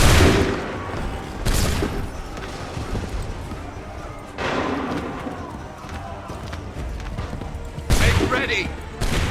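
Musket volleys in the video game Assassin's Creed III: several loud broadband gunfire bursts at roughly regular intervals, mixed with shouted battle commands and crowd noise throughout.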